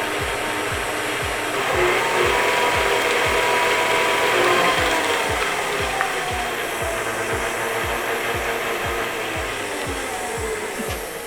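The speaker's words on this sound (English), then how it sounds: "So now we'll get this creaming." An electric mixer creaming very soft margarine for baking, a steady loud whir with a rapid ticking beat from the beaters, running continuously with no talk.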